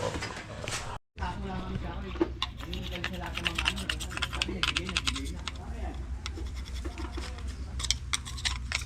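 A brush scrubs across wet electrical parts from flood-soaked wiring, giving close, busy scratchy strokes in quick irregular bursts, with a brief dropout near the start and soft sounds of work around it.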